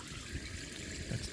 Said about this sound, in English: That's the Kakadu shower.